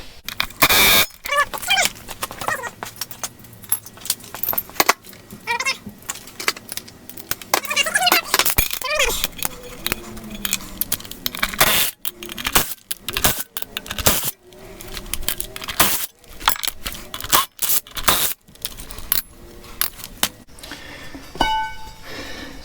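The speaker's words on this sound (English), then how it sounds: "6mm Allen key is going to take our rotor off." Metallic clinks and jangles from a 6mm Allen key working the rear brake rotor bolts loose on a Honda GL1500 motorcycle, irregular close tool taps and rattles with no speech.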